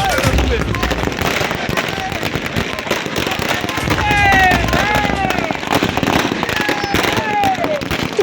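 Firecrackers set off to greet a newly chosen Congress minority-cell district president in a town street, a dense, continuous crackle of bursts lasting throughout, with whistling rockets and crowd noise layered in.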